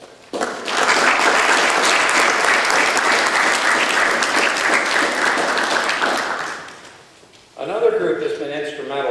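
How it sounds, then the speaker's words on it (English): An audience at an engineering graduation ceremony breaks into loud, sustained applause that fills the hall for several seconds and then fades, after which a voice starts speaking over the quiet. "join me in recognizing their important role in your life with a hearty round of applause"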